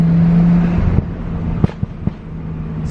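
A Porsche idling then settling, its engine rumbling low and steady with a few sharp exhaust pops spaced through the second half, close by and without talk.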